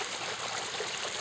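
Water pours steadily over a carved stone fountain sculpture, a continuous close splashing and trickling wash with no voices.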